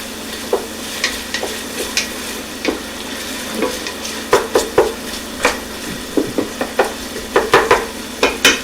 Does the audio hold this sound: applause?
no